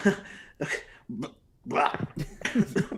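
A person imitates a burp with the voice, making several short gurgling, croaky bursts close to the mic, with pauses between them and a mix of laughter or talk-like sounds.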